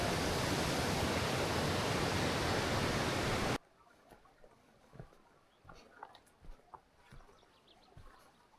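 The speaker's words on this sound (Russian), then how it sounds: "Этот шум воды, он настолько в транс вводит," Loud, steady rushing of river water beneath a bridge in Alaska fills the opening seconds, then cuts off abruptly to a quiet outdoor background with scattered faint knocks and rustles.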